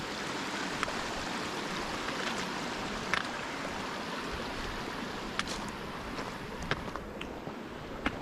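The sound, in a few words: small stream of water running across a hiking trail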